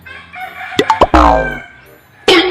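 Chickens cluck and squawk up close, followed by a loud rooster crow, then another burst of clucking at the end.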